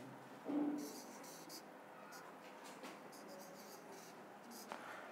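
Bengali letters written by hand on paper, a soft scratchy stroke sound with a brief louder touch near the start, set against faint room noise and no talk.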